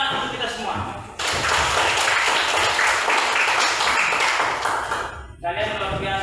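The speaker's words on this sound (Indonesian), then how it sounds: "tepuk tangan untuk kita semua" Students in a classroom discussion session burst into clapping that starts suddenly after brief talk, continues loud and dense for several seconds, then stops, with a voice speaking again at the end.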